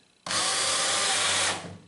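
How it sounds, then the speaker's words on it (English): A power drill drives a screw into a 2x4 while a sanding cabinet is being modified: one steady, loud whirring run of about a second and a quarter, starting abruptly and then tapering off, with no talk. "now we can put the screw in"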